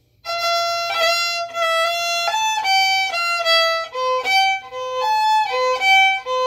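A solo fiddle plays a lively, flowing reel melody, Julia Delaney's reel, in quick bowed notes, close and clear, with no other instruments.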